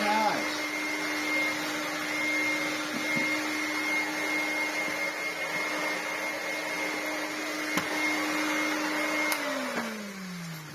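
A Hoover Hooverette 2944b vacuum cleaner runs loud and steady with a constant motor whine, then winds down near the end as it is switched off.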